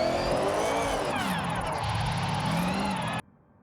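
A Mitsubishi Lancer Evo IX drift build in the video game Forza Horizon 6 revs hard with a rough, snarling exhaust note rising and falling for a few seconds, then cuts off abruptly.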